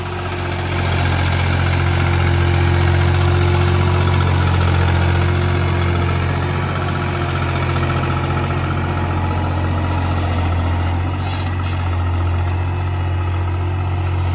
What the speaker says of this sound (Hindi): तुहानू तो थोड़ा जहा इंजन का साउंड दिखा दें कि कितना मुख्तलिफ हो चुका है